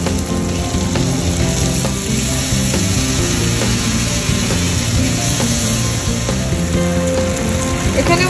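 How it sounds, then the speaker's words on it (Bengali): Tomatoes hit browned onions in a hot pan and sizzle loudly and steadily, a dense continuous frying crackle close to the microphone while a fish dish with mustard and poppy is being cooked. "পেঁয়াজগুলো সব লাল লাল হয়ে গেছে, এবার আমি টমেটো অ্যাড করব।"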